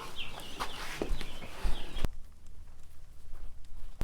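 Pasture-raised broiler chickens clucking outdoors on a Texas farm pasture, with scattered close calls over a busy, noisy first half that drops to a quieter background with occasional faint clucks.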